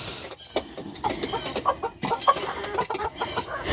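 Backyard flock with a fluffy-feathered rooster among hens, giving repeated short clucks and murmurs in a busy, overlapping cluster, fairly close and moderately loud throughout.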